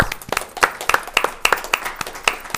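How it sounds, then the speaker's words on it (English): A small group claps steadily and energetically in a brief round of applause at a county board of commissioners meeting, close by, with no voices standing out. "can we give him a round of applause, please?"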